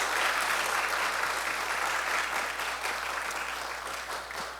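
A church congregation applauds at a ministry appointment ceremony for two new small-group leaders, with steady, dense clapping that fills the room and holds at an even level for several seconds before easing slightly.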